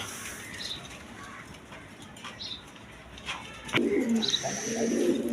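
A pair of red Sirazi Lahori pigeons coo softly and intermittently in a quiet loft, with a louder burst of cooing and rustling near the end.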